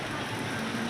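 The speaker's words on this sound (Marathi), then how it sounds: "तर मी तुम्हाला जेवढा दिसेल तेवढा पाऊस दाखवते" Light rain falls in Mumbai, a brief steady hiss of drizzle with no voices.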